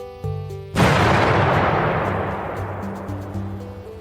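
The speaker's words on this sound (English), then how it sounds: "you hear this like sound, like a distant explosion as you see him just disappear quick" A distant explosion sound effect in a sci-fi actual-play tabletop podcast: one deep, rumbling boom bursts in and slowly fades over several seconds, with soft musical tones before and beneath it.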